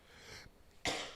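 One person coughs on a talk show: a muffled catch comes first, then one sharp, forceful cough near the end of the moment, close and fairly quiet overall.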